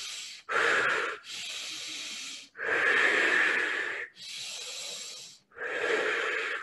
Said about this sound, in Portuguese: continue a respirar de forma bem profunda